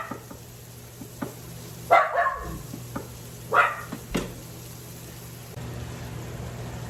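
A dog barks in a home kitchen while tomatoes are being cut, a few separate barks at moderate distance over a steady background hum, with no talking.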